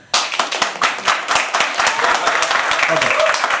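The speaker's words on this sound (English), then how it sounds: "And clap and like hoot and all of that." Audience at a live poetry open mic clapping and hooting, a sharp burst of dense applause starting abruptly and continuing steadily with shouts and voices mixed in.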